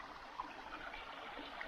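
Water from the Las Vacas creek in the San Pedro Parks Wilderness flows with a soft, steady trickling rush, faint and continuous with no voices over it.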